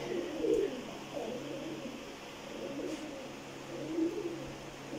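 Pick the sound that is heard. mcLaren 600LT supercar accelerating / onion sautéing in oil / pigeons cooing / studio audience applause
pigeons cooing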